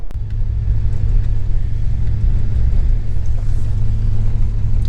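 Truck camper rolling away on a snowy, icy road, a steady low engine rumble with road noise, close and continuous, no voices.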